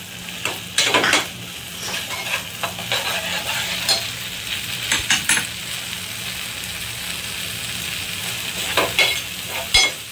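Red chutney masala fries in oil in a kadai, a steady sizzle under repeated scraping and clinking of a spoon against the pan, close and fairly loud.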